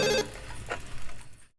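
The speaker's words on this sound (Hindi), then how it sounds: "देखो जरा किसका फोन है।" A telephone rings in a home, a brief loud ring burst at the start followed by a fainter ringing tone, then fading to silence.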